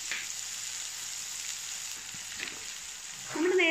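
Olive oil and butter sizzle steadily in a pan, a continuous bright hiss with a few faint scrapes, ending on a short rise in sound near the close.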